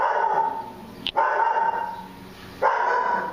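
A dog barks in long, strained yowling bursts, two extended howl-like barks separated by a brief gap, fairly close and alone.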